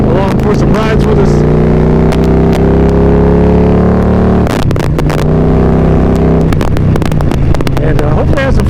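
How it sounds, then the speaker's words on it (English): A motorcycle pulls hard in high fourth gear, its loud engine drone climbing steadily in pitch with heavy wind buffeting over it. The roar dips briefly twice before surging again. "this bike just hauls ass, and that was like high 4th gear, just loped into it."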